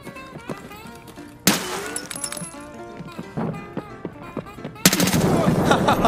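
Shotgun blasts in Escape from Tarkov, a few sharp, loud reports with the clearest near the middle and end, mixed with clattering game sounds and a voice speaking between shots.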